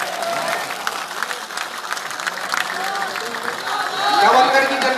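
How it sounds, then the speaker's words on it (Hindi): A crowd at a political rally in Nawalgarh, Rajasthan, breaks into strong, continuous applause that swells toward the end, while an amplified speaker's voice carries over it. "जोरदार तालियां, जब तक मंच पर आए तालियां आपकी बजती हैं।"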